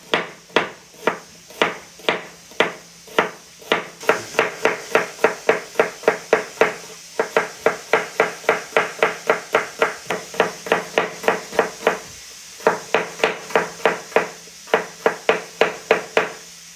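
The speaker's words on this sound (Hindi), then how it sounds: "ये प्याज काटनी है, तब इस चाट का मज़ा आएगा।" Rapid, rhythmic knife strokes on a cutting board as onions are chopped finely for chana chaat, crisp close knocks in quick bursts with brief pauses between runs.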